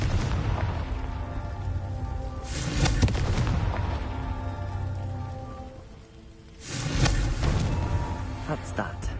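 Confringo blasting spell explosions in Hogwarts Legacy, two loud booming bursts a few seconds apart over a rumbling background, with a voice speaking in the clip.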